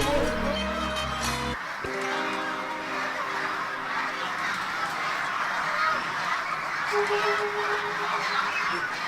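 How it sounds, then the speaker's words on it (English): Geese at a goose-roasting factory in Xinhui, China, honking and cackling as a noisy flock in the early morning, calls overlapping continuously under a steady background hum. "I have a bunch of geese behind me that are getting ready for the day's roasting"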